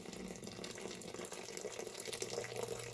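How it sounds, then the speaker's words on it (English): Boiling water poured into a sink with Palmolive soap to soak greasy microwave filters, a steady, faint, continuous rushing splash without pauses and without talk. "Throw your boiling water in it."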